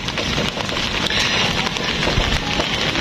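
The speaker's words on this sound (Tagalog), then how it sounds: "Humihina ng ulan, pero makakabasa pa yan." Steady rain falling on potted succulent plants and their soil, a loud, dense, continuous patter of drops close by with no pauses and no voices.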